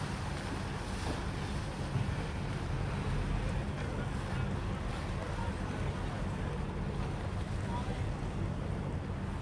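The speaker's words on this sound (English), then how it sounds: "Passenger boat coming in from either Supanam or Wakanam." Steady rumble of an incoming passenger boat's engine over water, with wind buffeting the microphone and waves washing throughout.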